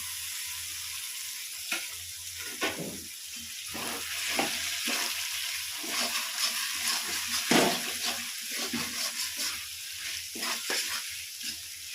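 Tomatoes tipped into a hot pan with ginger and garlic sizzle loudly up close, with repeated scraping stir strokes and bursts of crackle throughout.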